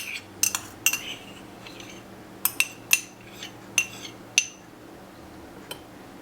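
A utensil clinks against a bowl while pico de gallo of chopped parsley, onion and jalapeno is mixed, giving scattered sharp metallic taps in small clusters over a quiet background with no talking.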